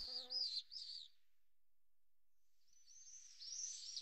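Blackbird calls in a Mediterranean hillside woodland: a few bright chirps at the start, a silent gap, then another run of high warbling notes. The calls are fairly faint and there are no voices.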